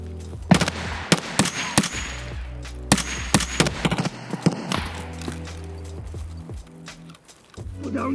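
Video game gunfire cracks out in sharp bursts of rapid shots, loud and close, then thins to sporadic single shots over a low rumbling background.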